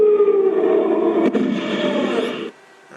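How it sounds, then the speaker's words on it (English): A Sabretooth scream sound bite gives one loud, sustained shrieking roar with a rough, harsh tone. It holds for about two and a half seconds with a slight wavering, then cuts off abruptly to quiet. "Sabretooth roar. Or not a roar, but a scream."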